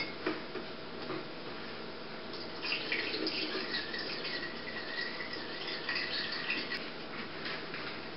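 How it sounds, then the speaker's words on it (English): Sugar dissolved in liquid is poured back into a batch of homemade apple wine, giving a steady trickling, splashing stream that runs alone for several seconds, swelling slightly midway. "Now I'm just going to pour it back in."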